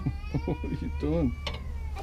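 A cat whinges in a short run of plaintive, rising and falling meows, close by, over a steady low engine-like hum.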